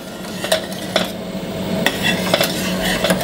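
A spoon stirs a boiling buko gulaman mixture in a metal pot, with soft scraping and a few light clinks against the metal in an irregular rhythm.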